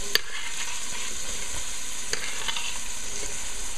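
Basmati rice sautés in a hot pan, a steady bright sizzle with a few soft stirring scrapes and light clicks.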